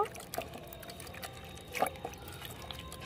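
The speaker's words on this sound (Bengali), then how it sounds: "মানকচুগুলো কাটা হয়ে গেছে, এবার ভালো করে ধুয়ে নেব।" Cut taro (mankochu) pieces being rinsed by hand in water, with soft splashes, pouring and dripping, close but faint, and a couple of brighter splashy bursts.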